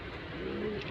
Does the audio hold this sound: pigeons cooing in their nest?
yes